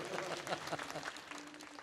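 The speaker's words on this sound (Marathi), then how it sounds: "एकदा तुमच्यासाठी टाळ्या वाजवा जोरात" A kirtan audience claps together in a short burst of applause, moderately distant, fading over about two seconds.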